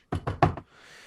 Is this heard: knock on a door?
yes